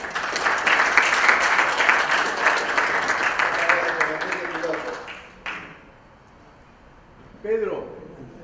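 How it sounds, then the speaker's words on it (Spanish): A round-table audience applauds warmly for several seconds, the dense clapping fading out and giving way to quiet room tone, with a voice briefly heard near the end. "Un aplauso para Ezequiel."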